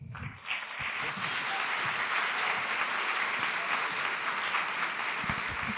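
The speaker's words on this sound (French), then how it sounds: "Merci d'applaudir très fort Sauvan" A theatre audience bursts into loud, sustained applause that holds steady for several seconds.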